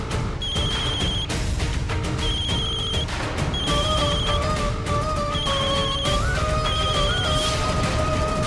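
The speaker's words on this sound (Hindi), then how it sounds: "अरे ये तो गहना का फोन है" A mobile phone rings in a home scene, a repeating electronic ringtone melody in bursts over a busy background of music and clatter.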